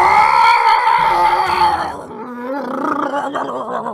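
A loud, drawn-out scream from the final case of the Phoenix Wright: Ace Attorney video game, strained and roaring at first, then falling into lower, rougher cries that carry on to the end.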